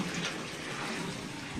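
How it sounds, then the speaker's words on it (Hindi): Water pours steadily into the tank of an air cooler, a continuous rushing, splashing fill that holds at an even level from start to finish with no voices. "तो अच्छा कूलर में पानी भरा जा रहा है।"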